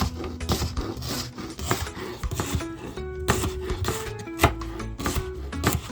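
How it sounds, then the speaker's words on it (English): Repeated knife strokes slice through firm ginger root on a cutting board, a steady series of sharp taps and scrapes close by. "So I'm going to slice them up for the blender."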